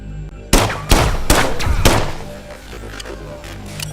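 Gunfire from the System Shock Remake video game: several loud, sharp shots in quick succession up front, followed by fainter scattered impacts and a low background hum.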